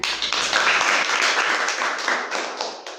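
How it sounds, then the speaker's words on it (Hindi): A classroom of students claps for a seventh-grade girl, a steady dense patter of many hands that stays loud and even for about three seconds without talk. "ताली बजाओ भाई इनके लिए।"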